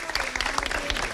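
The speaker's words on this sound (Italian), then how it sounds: "l'applauso, come sentite?" Applause at a group photo ceremony, a brief burst of steady crowd clapping at moderate volume with no pauses.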